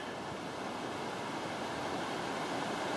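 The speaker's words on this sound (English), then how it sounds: "And you can probably hear the river in the background." River rapids flow in the background, beyond brush and trees over bedrock, as a steady broadband rushing roar, continuous and moderately distant.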